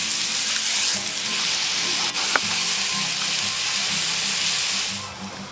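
Pork loin chops seasoned with three spices sizzle over a wood-fired Stovetec rocket stove, a loud, steady frying hiss with a faint background hum and one brief click.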